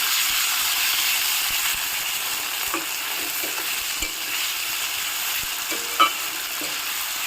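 Chopped onion, garlic and tomato fry in oil left over from frying fish, giving a steady broadband sizzle with a few soft spatula scrapes and one sharper clink near the end. No one speaks.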